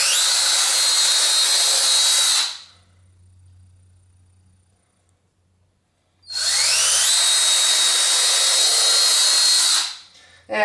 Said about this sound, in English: We're going to drill a couple holes through here for the screws.